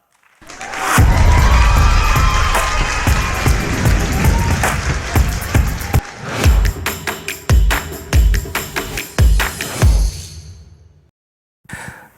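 A conference-show audience breaks into loud, sustained applause and cheering to welcome an aerospace engineering professor onto the stage, fading into scattered individual claps and bangs before stopping.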